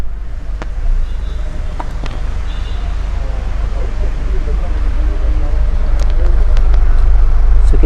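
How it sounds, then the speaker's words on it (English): A 2021 Mercedes-AMG GLA 35 exhaust idles steadily up close, a deep, rumbling low continuous burble with faint background noise and a few light clicks. "So you can hear the burble, you can see the exhaust as well."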